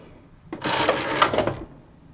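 A knitting machine carriage is pulled back across the needle bed in one loud, rattling mechanical sweep lasting about a second, with quiet before and after.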